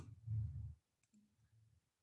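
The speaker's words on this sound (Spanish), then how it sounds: "Si me voy a menú 1 y doy clic en llamar a form 1" A computer mouse gives two quick, faint, close clicks, following a stretch of low muffled rumble and soft low-pitched noise, with no speech.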